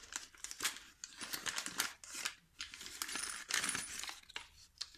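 Paper bag holding a manual crank and four screws, handled during an unboxing of a Monroe LA7-200: close crinkling paper with metallic rattling and clinking throughout, loud and continuous, no talk.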